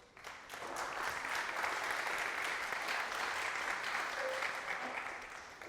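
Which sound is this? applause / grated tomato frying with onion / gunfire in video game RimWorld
applause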